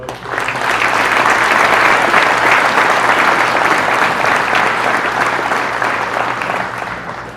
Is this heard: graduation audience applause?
yes